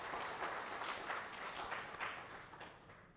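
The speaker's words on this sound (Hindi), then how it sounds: "हम सभी लोग एक बार ताली बजाकर उनका स्वागत करें।" Audience at an indoor talk on internal security applauding to welcome the chief guest, a steady wash of many hands clapping that gently fades toward the end.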